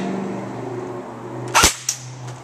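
Two sharp airsoft gun shots crack against a JT airsoft mask lens, close and loud, the first stronger than the second, over a steady background hum.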